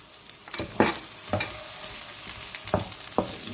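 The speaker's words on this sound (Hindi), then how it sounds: "ये ग्रीन प्याज भी, इसको हमने पहले ऐसे ब्राउन करना है" Green onions fry in a pan, a continuous close sizzle broken by several scraping knocks of a spoon stirring them, loud and steady with no voices.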